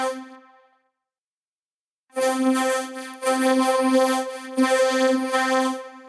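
Cubase vocoder synth carrier with noise mixed in, sounding as a steady buzzy chord that stops briefly, then returns brighter and hissier with pulsing swells over several seconds.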